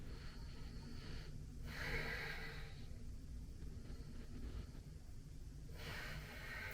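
Slow, deep breathing during a gentle standing yoga stretch, soft inhales and exhales in long cycles, faint and close against a quiet hiss.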